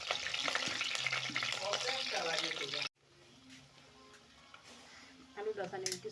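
Potatoes fry in a pan with a dense, close sizzle and stirring clatter, then a sudden drop to a quieter, fainter sizzle, and some clinks near the end; a voice talks during parts of it.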